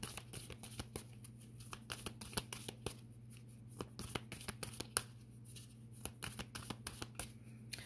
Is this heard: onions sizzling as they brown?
no